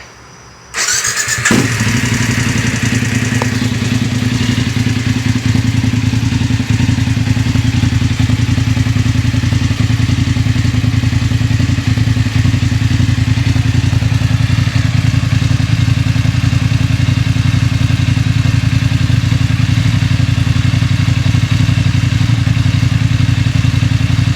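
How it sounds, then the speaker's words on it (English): A BMW 850 GS motorcycle fitted with a MIVV Delta Race exhaust, baffle still in place, starts after a short quiet moment, then settles into a loud, steady, deep idle rumble that runs unchanged to the end. "Let me turn this on. This really. See what she idles at."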